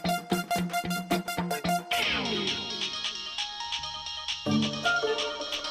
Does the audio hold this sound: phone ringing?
yes